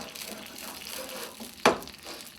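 Wild asparagus frying in a non-stick pan, a steady sizzle running throughout, broken once by a sharp scrape as a spatula pushes the spears toward the center.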